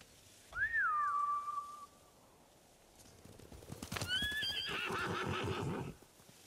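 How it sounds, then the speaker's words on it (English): A horse whinnies loudly near the start with a falling, wavering call, then after a short lull another horse neighs amid rustling and hoofbeat-like clatter, in the video game Ghost of Tsushima. "Bastards scared off the horses."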